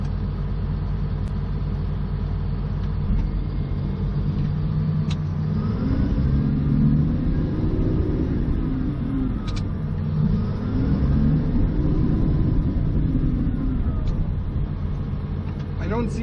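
A GPS-equipped bulldozer engine runs steadily in close range, a continuous low rumble with slight rises in throttle, while someone talks over it.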